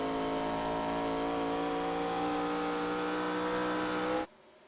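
ARCA Series race cars roar loudly at Phoenix Raceway, a sustained, steady engine drone with layered harmonic whine that holds for about four seconds before cutting off abruptly to near silence.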